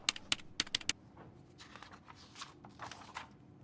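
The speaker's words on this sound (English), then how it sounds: "She's typing something on her keyboard." A librarian types on a computer keyboard in Broken Sword 2.5, with a quick, crisp run of clicking keystrokes at first, then softer, scattered taps at low level.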